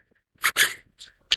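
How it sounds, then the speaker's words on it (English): A few short, sharp dog barks or huffs, close and loud, spaced unevenly across a second of otherwise quiet air. "I hope you can hear a dog barking."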